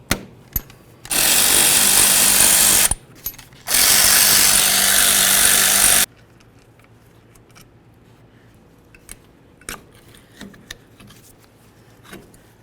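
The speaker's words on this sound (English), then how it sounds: "Go ahead and remove our caliper to caliper slider bolts." A power tool, likely an impact gun, removes the two rear brake caliper slider bolts on a 1994-2004 Chevy S-10 pickup: two loud, sustained bursts of buzzing, close, then quiet metallic clinks as the bolts come free.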